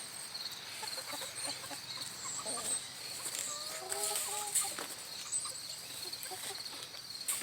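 Backyard chickens in a small city homestead pen cluck and call in short bursts at moderate distance, with some wing flapping over a steady outdoor background.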